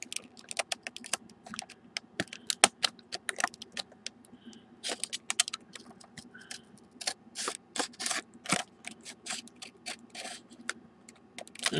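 A knife slicing through the plastic blister packaging of a Mattel Batman Arkham Origins 1/18 scale figure, giving dense rapid clicks and crackles in irregular bursts, close and fairly loud with no talk.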